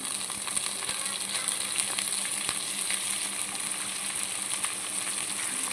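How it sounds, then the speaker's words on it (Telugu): Spinach is added to onions cooking in oil for a jenna fish and spinach fry. A dense, steady sizzle of frying fills the clip, with occasional soft stirring clicks and no voices. "పాలకూర జన ఫ్రైకి పాలకూర వేసేసుకుందాం"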